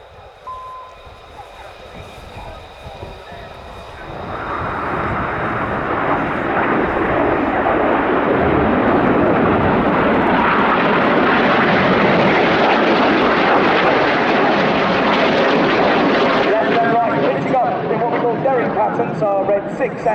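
Red Arrows jets fly a display at the Royal International Air Tattoo, a loud roar swelling as the aircraft pass overhead, holding steady for several seconds, then easing slightly, while a commentator talks over a loudspeaker.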